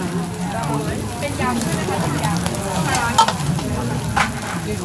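Fried rice being stir-fried in a wok at a seaside street-food stall on a walking street, with a continuous sizzle and scraping of the spatula and clatter, plus a busy crowd murmur behind it.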